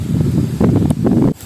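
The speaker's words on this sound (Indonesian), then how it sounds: "angin berembus kencang." Strong wind gusting across a fishing spot outdoors, loud buffeting rushes hitting the microphone in uneven bursts before cutting off abruptly.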